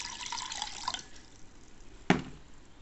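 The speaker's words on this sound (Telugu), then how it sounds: "ఇప్పుడు గిన్నెలో నీళ్ళు పోసి" Water pours into a cooking pot for heating milk powder for a breakfast of bread toast with milk: a short steady splashing stream at first, then quiet with one brief louder splash or drip.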